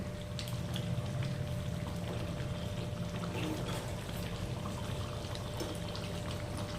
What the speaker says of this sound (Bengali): এর মধ্যে দিয়ে দেব জল পরিমাণ মতো।